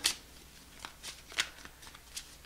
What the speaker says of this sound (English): let me do a couple more shuffles